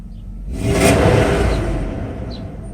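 A Mercedes S500 engine, just restarted after timing chain and guide work, revs up sharply from a quiet idle, peaks as a loud close rising roar, then eases back into a sustained rumble.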